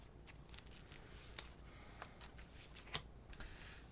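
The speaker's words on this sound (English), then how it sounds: "I gotta shuffle for 1 more." Keyforge playing cards being shuffled during a tabletop game, faint soft riffles and sharp card snaps at irregular intervals, quiet and close with no talk.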